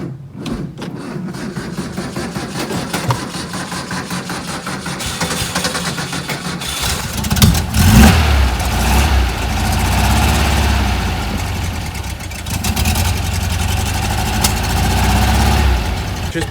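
A 1964 Porsche engine runs steadily after start-up, a loud, close low rumble with a brief rev swell midway, then settling into a continuous idle.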